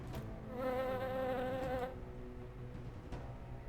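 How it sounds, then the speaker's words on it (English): Swarm of bees from the video game The Doors of Trithius: a dense, close insect buzz with a wavering pitch swells for under two seconds, then fades into a quieter background hum. "Swarm of bees!"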